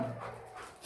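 A big dog gives a brief, faint whimpering yelp, heard close but quietly in a short burst with no talk.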